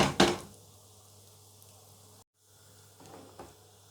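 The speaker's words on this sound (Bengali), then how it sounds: "চালটা এখন 1-2 মিনিটের মতো ভালো করে একটু ভেজে নিব" Rice frying in a pan for beef khichuri: a knock at the start, then a steady close sizzle that drops out briefly and resumes.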